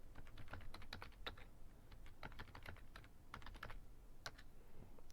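A name is typed on a computer keyboard in quick, steady clusters of light, crisp key taps, heard close and alone for several seconds.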